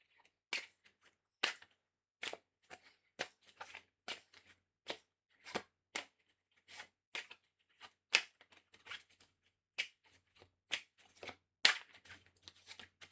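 Tarot cards gathered up and shuffled by hand, a string of sharp, quick papery riffles and slaps in an irregular rhythm, close and fairly quiet with no talking.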